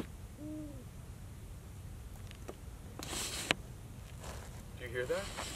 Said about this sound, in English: Do you hear that? It's an owl.